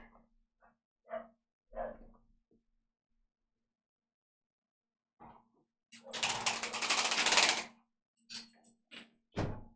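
Neighbours' dogs bark outside in a few scattered short bursts, with one louder, denser stretch near the end, heard through a closed window in an otherwise quiet room.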